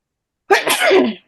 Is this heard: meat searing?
no